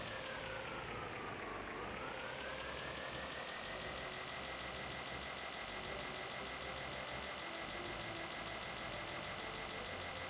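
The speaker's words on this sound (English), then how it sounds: "Now the engine is all of a sudden really, really loud." A tank engine in a video game runs loudly, a steady droning roar with a whining tone that dips and then climbs back to a constant pitch, continuous and unbroken with no talk.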